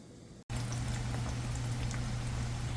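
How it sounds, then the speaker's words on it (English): Salmon fries in a pan with a steady, close sizzle that starts abruptly after a brief quiet moment and holds evenly to the end, along with a low hum. "Got the salmon frying."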